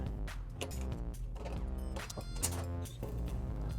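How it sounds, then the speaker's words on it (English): Metal hand tools, a 3mm Allen key and an 8mm box wrench, tightening fender eliminator bolts on a Kawasaki Z125 motorcycle, giving a close run of small clicking, ratcheting and creaking mechanical sounds with no talk. "I'm going to use that 3mm Allen and 8mm box wrench again and tighten down on these connections"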